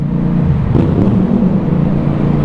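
Yamaha MT-07 motorcycle engine heard from the rider's seat inside a traffic-filled tunnel, a loud, steady low rumble and whir with a slight rise in revs, no talking over it.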